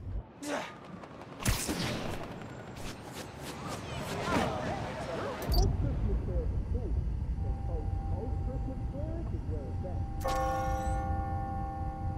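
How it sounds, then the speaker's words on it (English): Bells ring in the Spider-Man: Miles Morales game, a clear ringing strike near the end that follows busy ambient game sounds and a spoken voice. "I hear those bells"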